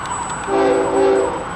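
A single-engine westbound freight stack train departing Fullerton sounds its horn in one steady, loud blast of about a second, with the low rumble of rail traffic underneath and no talking.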